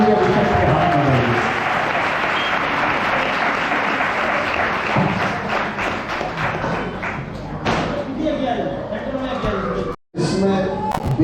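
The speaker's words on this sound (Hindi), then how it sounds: "जोर से तालियों बजाएंगे" An audience at a church deliverance meeting claps loudly and continuously, dense applause with thumps and taps filling the room, briefly cut by a short dropout near the end before resuming.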